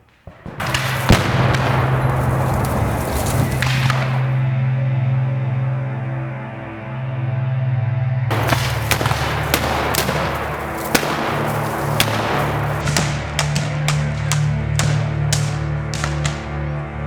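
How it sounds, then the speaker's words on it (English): Cannon fire in a movie battle scene: several sharp, heavy blasts, some close and loud, with a sustained low rumble and crackle between them and no voices. "Who the hell is firing that cannon at us?"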